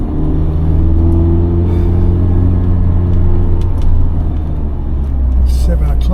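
A Mazda MX-5 driving on an early-morning road run, its engine a loud steady low rumble with road noise throughout, close and continuous.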